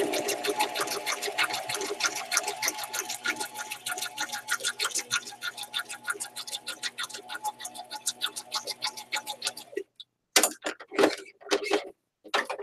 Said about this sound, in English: I'm going to sew this bag now